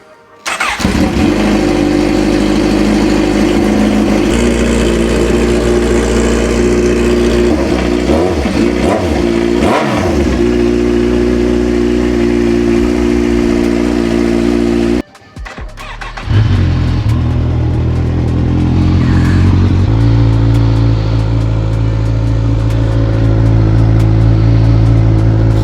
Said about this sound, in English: Cold start, let's go.